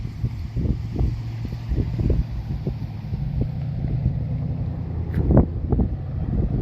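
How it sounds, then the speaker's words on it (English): Wind buffets the microphone outdoors on a sunny, cold day in Virginia, a steady low rumble with irregular gusty thumps throughout and a stronger blast near the end. "It's windy as hell"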